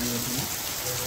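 Steady rain falls outdoors at a tourist site, a dense, even hiss of drops spattering on surfaces that fills the short moment without any voices.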